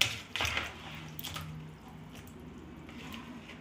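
Ash gourd (petha) pieces, firm after ten hours soaking in lime water, are washed in plain water, giving steady splashing and trickling with brief louder sloshes near the start.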